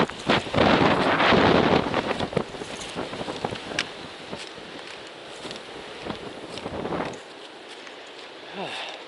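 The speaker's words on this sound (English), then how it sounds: "Even if the wind's still blowing, the sun feels nice." Wind gusts across a mountaintop near an observatory, buffeting the microphone in loud roaring bursts early on and then easing to a lighter rush before dropping away near the end.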